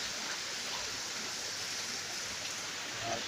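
The river Nile flowing from Uganda, a continuous broadband rush of moving water, steady and moderately distant with no other sounds.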